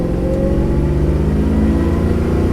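A 1970s-style HQ Holden fitted with an LS V8 and an automatic gearbox pulls under acceleration, a loud, steady low engine drone heard from inside the car.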